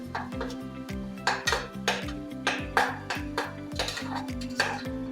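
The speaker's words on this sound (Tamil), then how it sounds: "இது கூடவே இப்போ நம்ம அரைச்சி வச்சிருக்க வெங்காய விழுது சேர்த்துக்கலாம். இதையும் சேர்த்து நல்லா வதக்கிக்கலாம்." Ground onion paste sautés in a kadai for a Dindigul-style chicken biryani, with a spoon scraping and clanking against the metal in a steady repeating rhythm, about twice per second, over a faint sizzle.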